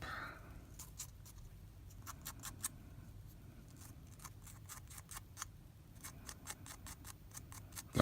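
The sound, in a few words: sandpaper roughing up a surface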